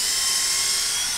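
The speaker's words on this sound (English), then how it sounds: "we need to use a 7/32 inch drill bit to drill through those holes" A power drill with a 7/32 inch bit bores through holes in a metal utility trailer frame, a loud, steady high-pitched whine held without a break for the whole short stretch.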